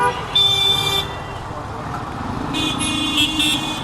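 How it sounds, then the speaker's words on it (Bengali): Traffic jam on a morning commute, car horns honking in short bursts near the start and again toward the end over a steady road rumble, with a voice talking in between. "ভাইয়া হর্ন দিচ্ছে কেন?"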